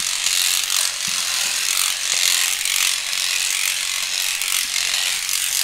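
An electric hair brush runs continuously with a loud, steady mechanical whir and rapid ratcheting buzz, close up and alone, with faint clicks scattered through it.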